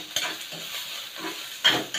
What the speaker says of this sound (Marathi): आपला कांदा आता भाजत चाललाय